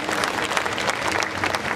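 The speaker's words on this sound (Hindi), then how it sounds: "एक बार जोरदार तालियों में स्वागत होना चाहिए" A crowd at a coordinator's program gives a hearty round of applause, dense and continuous clapping filling the whole stretch at steady loudness.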